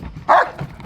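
A single sharp bark from a pet dog, close and loud, standing alone with no talk around it.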